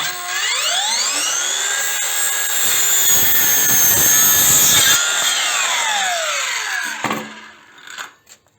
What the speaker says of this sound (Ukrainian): взяла якусь дошку 20-ку. Е, також е, пила під 45 градусів.